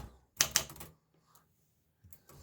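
A 1956 Remington Cicero typewriter with a Dutch keyboard clacks out two quick, sharp keystrokes close by, then falls quiet before a few softer key taps at the end.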